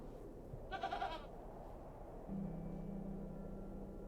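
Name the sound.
goat bleating in the video game The Excavation of Hob's Barrow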